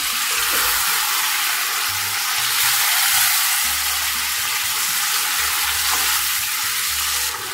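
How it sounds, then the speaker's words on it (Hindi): Cooked mutton is stirred into a pan of frying masala, making a loud, dense sizzle with scraping and stirring under it, continuous throughout with no voices. "अब इसमें मैंने जो ये गोश्त भुना हुआ था, जो गोश्त मैंने गला के रखा था, ये डाल देंगे। मिक्स कर लेंगे।"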